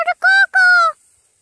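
Near a farm, a human voice imitates a rooster's crow as three loud, clear, tuneful syllables, the last one drawn out, followed by near silence.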